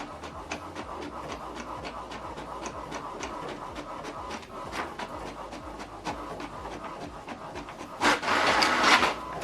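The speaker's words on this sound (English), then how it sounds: "Now this document is going to print out." An HP DeskJet 3700 inkjet printer printing a document: a steady mechanical whir and rattle with rhythmic clicking from the carriage, growing louder in the last second or so.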